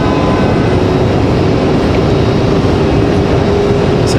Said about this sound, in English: We've got United at 2269 on final now. 737-900ER coming in from Denver, Colorado.